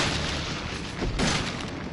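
Gunfire in Resident Evil 7 played in PSVR, dense booming shots blending into loud continuous game noise, with a stronger burst in the middle.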